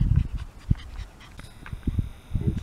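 Miniature schnauzer puppy pants and whimpers close by in short, uneven bursts with small yelps between them.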